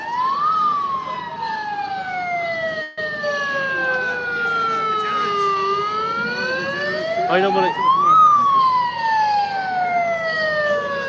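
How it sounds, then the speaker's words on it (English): A Garda police motorbike siren in Cork, Ireland wails in rising and falling sweeps, loud and close, with road traffic underneath and a brief voice cutting in near the start. "a siren on a Garda bike I never saw before"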